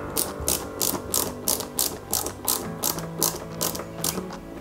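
Ratcheting clicks from a screwdriver driving a small screw into a Lancia 037 scale model kit, a steady series of about a dozen crisp close clicks in regular rhythm with no talking.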